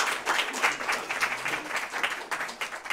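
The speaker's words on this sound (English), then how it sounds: "Big round of applause for Kate." A room of people at a civic breakfast briefing in the Manhattan Borough President's Office applaud, a lively pulsing burst of clapping that holds steady for several seconds.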